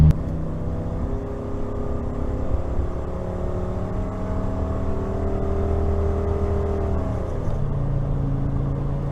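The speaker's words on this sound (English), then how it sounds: "Ford V10 next to me in that RV, much larger vehicle" A large RV powered by a Ford V10 cruises alongside at highway speed, a steady, loud engine drone with a rising and falling tone that dips sharply near the end, heard from inside a neighbouring vehicle.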